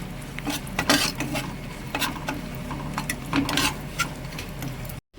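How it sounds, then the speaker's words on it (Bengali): Dry fruits frying in ghee are stirred with a metal spoon, giving a run of close, uneven scraping and clinking strokes over a soft, steady sizzle. "ঘিয়ের সাথে ভালোভাবে এটাকে নাড়িয়ে নেব, নাড়িয়ে একটু লাল লাল করে নেব।"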